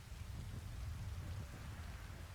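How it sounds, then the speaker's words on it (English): Rain falls steadily as a dense, even hiss with a low rumbling undertone, continuous and unchanging throughout, with no one talking. "It's raining."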